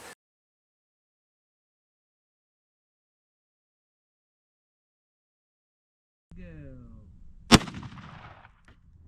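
A single sharp, loud gunshot from a .357 fired at soft body armor, following a few seconds of low outdoor rumble and shuffling after a long silence.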